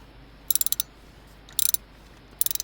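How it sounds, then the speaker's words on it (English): A ratchet wrench clicks in three quick bursts of rapid pawl ticks while undoing the alternator bolt on a Vauxhall A14XER engine, close and crisp over a quiet background. "Now we're going to undo the alternator."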